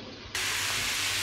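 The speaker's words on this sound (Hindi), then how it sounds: "इन्हें फ्राई करते हैं, फिर लहसुन अदरक का पेस्ट डाल देंगे।" Meat frying in a hot pan for a qurma, a sudden loud sizzling hiss that bursts in after a brief quieter moment and holds steady, close and alone.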